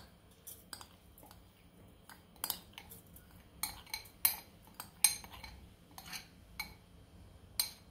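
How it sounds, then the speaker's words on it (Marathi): Soaked sago and barnyard millet going into a mixer jar for fasting dhirde, heard as a scatter of light clinks and taps against the jar, spaced irregularly and fairly close in a quiet kitchen. "त्याच्यामध्ये भिजलेला साबुदाणे आणि वरई टाकून घेणार आहोत."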